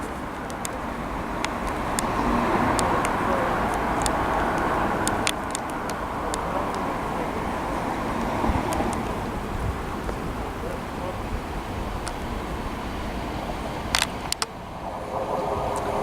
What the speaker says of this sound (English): Next to arrive in is 1405 ScotRail service to Glasgow Queen Street from Edinburgh.